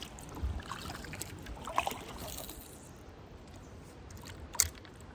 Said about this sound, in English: All right, we're paddling a little.